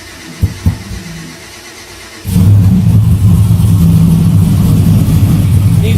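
A procharged Chevrolet Trailblazer engine cranks and fires up after a couple of clicks, then settles into a loud, steady, rough idle close by.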